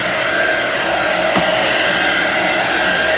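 Dust is blown off a chalkboard with a steady, loud rush of forced air that continues without a break, with no talking.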